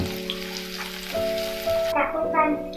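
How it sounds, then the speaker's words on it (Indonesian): Shallots sauté in a pan for a stir-fried beef dish, giving a steady crackling sizzle under sustained background music tones, with a voice briefly present. "kita tumis bawang merah ini sampai agak mengering"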